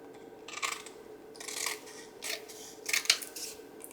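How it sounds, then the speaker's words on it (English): Scissors cut through paper while trimming around an envelope, giving several quiet, close snips and rustles spaced unevenly over a few seconds. "I'm going to cut it up like that and then follow my envelope around."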